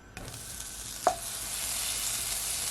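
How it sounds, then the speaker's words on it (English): Butter sizzles in a pot on a low heat, a steady bright hiss starting after a soft clunk and holding evenly, with one small clink partway through and no voices. "to my pot I'm gonna add at least 1 tablespoon of my butter"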